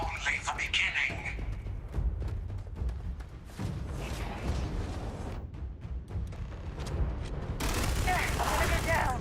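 Gunfire in the space game Starfield, a busy firefight of rapid shots and bursts running throughout, with game voices and talk layered over the shooting.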